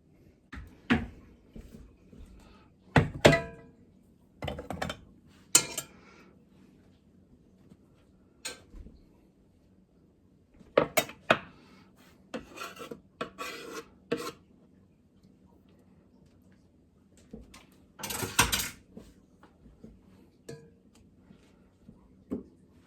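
Potatoes being cut up for gratin potatoes, a knife knocking and scraping on a board in scattered bursts of short, close thuds and rasps with quiet pauses between them.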